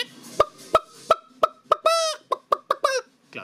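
A chicken clucks in a run of sharp, close, loud calls, about a dozen in quick uneven rhythm, with a longer drawn-out squawk partway through.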